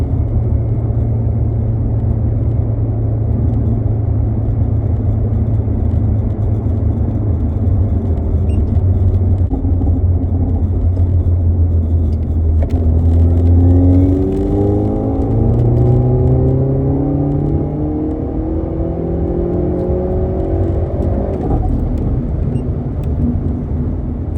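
A Hyundai Elantra N running a race gas tune pulls hard through fourth gear, its engine drone rising steadily in pitch from a low rumble, loud and close from inside the cabin.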